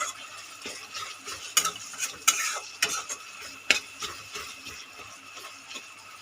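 Tomatoes frying over a medium flame, with a faint sizzle under intermittent scraping and clinking stirs of a utensil in the pan, close and irregular.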